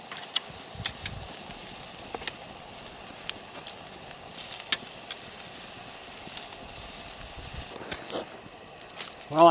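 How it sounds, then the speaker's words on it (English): Pork steaks sizzle on campfire coals with a faint, steady hiss, broken by scattered crackles and pops from the fire and a louder burst at the very end. "I just put the pork steaks on the fire here"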